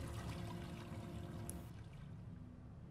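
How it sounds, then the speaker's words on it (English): A toilet flushing in Aperture Desk Job, a short rushing pour of water that stops abruptly, with a small click partway through, then a faint residual hiss. "let's test the flush"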